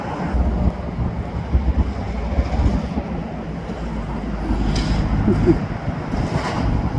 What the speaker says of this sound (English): Hearing these old diesels work